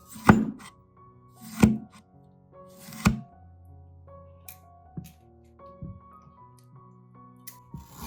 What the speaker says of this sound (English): After grinding, cut a tomato or a slice of ginger.